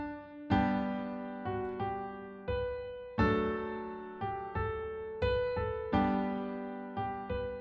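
Auld Lang Syne melody played as plucked or struck single notes without words, a slow phrase of about a dozen decaying tones, each attack ringing out before the next, moderately quiet and alone.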